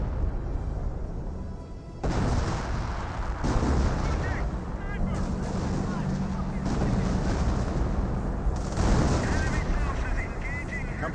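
A creeping artillery barrage rolls across a Company of Heroes battle, with repeated heavy booming shell impacts in irregular bursts and a constant rumbling battlefield din beneath them.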